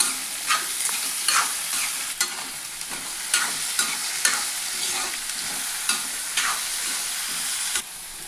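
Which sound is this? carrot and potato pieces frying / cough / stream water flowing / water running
carrot and potato pieces frying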